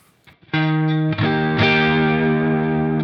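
Heavily distorted electric guitar chords through an amp plugin ring out loud and sustained, with a thick saturated tone after a brief quiet start.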